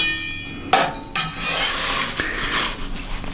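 A pizza is turned inside a 600-degree oven: two sharp metallic clanks are followed by a scraping, rustling sizzle over a low oven roar.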